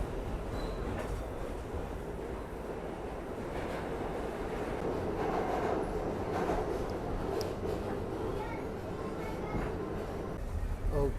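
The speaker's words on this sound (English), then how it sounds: "the Whitehall Street bound W local train where I left Lexington Avenue, 59th Street" An R68 New York City subway car runs on a W local toward Whitehall Street, with a steady loud rumble of wheels and motors, broadband rail noise and faint squeals throughout.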